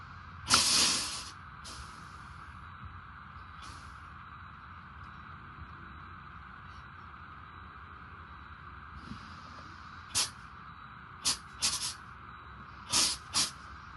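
Truck air brakes are applied, releasing one loud, sharp hiss of air near the start, followed by several shorter, quieter bursts of hissing later on, with no talking.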